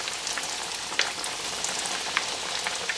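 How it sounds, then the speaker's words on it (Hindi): Chicken bread triangles deep-fry in oil over medium-high heat until golden, making a soft, continuous bubbling crackle with scattered sharper pops throughout. "मीडियम टू हाई पर आप रखेंगे, और इसको गोल्डन हो जाने दें दोनों साइड्स पर"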